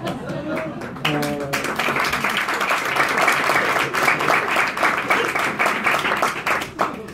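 An audience at a philosophy book talk breaks into applause. A voice speaks briefly, then loud, close, rapid clapping builds and continues steadily to the end.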